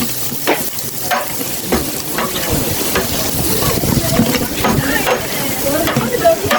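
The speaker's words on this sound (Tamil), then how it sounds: "நல்லா கிண்டணும், அதாவது வதக்கணும்." Masala being stirred and sautéed in a large pot for a 5 kg dum biryani, with repeated scraping strokes of a ladle over a continuous close sizzle and hiss.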